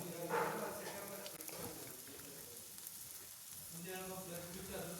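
Butter sizzling and frying in a pan as capsicum bread roasts, a steady crackle throughout with a voice talking over it at the start and again near the end.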